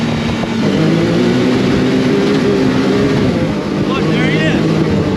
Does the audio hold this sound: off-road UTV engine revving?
yes